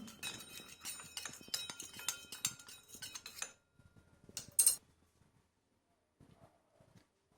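Spoon stirring cornflour into a little water in a bowl, quick close clinks and scrapes in a busy burst, then a pause and a few softer taps before it trails off.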